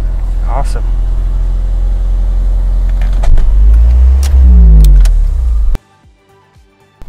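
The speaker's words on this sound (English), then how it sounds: "That idle's a little high." A Honda Civic engine idling slightly high, a steady low rumble that carries loud and continuous for about six seconds under a short voice, then cuts off abruptly to near silence.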